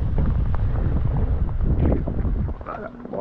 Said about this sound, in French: Il y a vachement de vent.